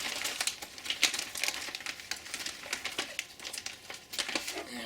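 A plastic Ziploc bag holding bulk garcinia powder crinkles and rustles close up in quick irregular bursts, with no talking.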